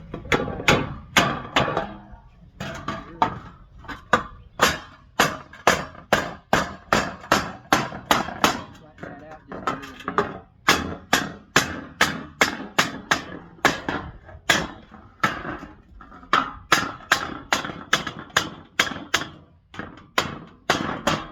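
A hammer strikes a steel brake drum being shaped into a makeshift coal forge, dozens of sharp metallic blows in uneven bursts and steady runs, close and loud with no talk.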